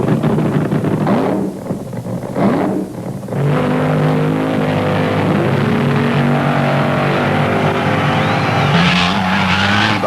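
Drag racing cars, a Chrysler-powered Vega and the Chi-Town Hustler, launching at a 1975 IHRA event, loud engine roar with tire squeal and wind buffeting, building into a sustained blare.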